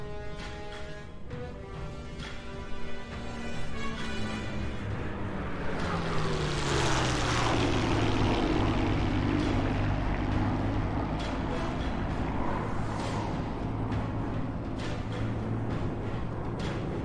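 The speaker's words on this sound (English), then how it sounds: "The Mustang continues to strafe the airfield's fuel depots and ammunition while the fight goes on above." A P-51 Mustang WWII warbird makes a strafing pass at the Henderson Air Fest 2022 airshow, its propeller engine roaring loudly and steadily, with the pitch sliding downward as it sweeps past and then holding a sustained drone.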